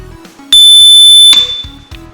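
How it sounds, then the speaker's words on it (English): A simple electromagnetic buzzer in a small home tinkering circuit sounds one loud, steady tone lasting under a second, switched on abruptly and cut off, with quieter clicks and handling noise before and after. "An electrical buzzer uses an electromagnet to make a loud repetitive sound."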